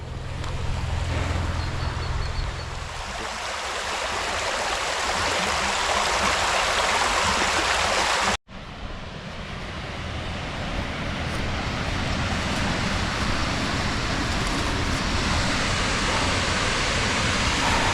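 Steady rushing of the Guadalcobacín river flowing over rocks, a continuous broadband wash with no voices, briefly cutting out for an instant midway.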